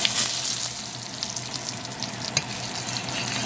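Spices fry in oil in a pan for a Trinidad roti-shop style curry potato, a close, steady crackling sizzle with a few sharper pops, with no talking.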